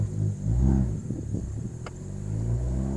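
A Ford Focus ST pulls away and accelerates through the gears on a test drive after a transmission replacement, a close, loud engine drone rising and easing in pitch with a brief shift dip, no talk.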